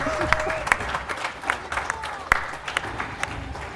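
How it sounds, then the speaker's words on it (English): A few people clap at an uneven pace at DreamHack Winter 2014 during a Max Payne 2 race, sharp individual claps over a faint background hum, sounding like a small scattered round of applause. "round of applause, please"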